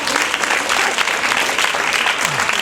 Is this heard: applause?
yes